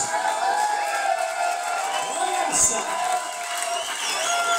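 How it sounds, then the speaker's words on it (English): A club audience at a live band show cheers and whoops for the band, a steady roar of crowd voices with a short spoken exclamation on top. "Let's give a round of applause for them now tonight."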